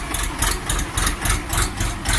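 Orion RD 244 tractor on wide tyres sits idling, its engine giving a close, even, throbbing chug with regular pulses roughly four times a second, no voices.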